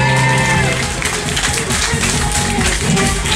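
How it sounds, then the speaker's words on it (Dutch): Applause from the audience at a Belgian carnival revue, a dense continuous wash of clapping with some cheering that fills the whole moment, loud and close. "allemaal een groot applaus"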